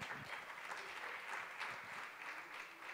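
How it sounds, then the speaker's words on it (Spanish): Church congregation clapping during a Spanish-language worship service, a soft, distant wash of applause that holds steady for a few seconds with no voices over it. "¿Le puedo dar un aplauso al Señor"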